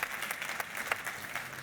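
Audience applause at an IAA Mobility lunch-and-learn talk, a soft patter of many hands clapping at moderate distance, steady and fairly quiet throughout.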